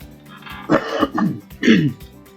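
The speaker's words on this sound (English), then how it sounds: "I had to clear my throat." Two short, rough throat-clearing bursts about a second apart, close to the microphone, with quiet room tone between them.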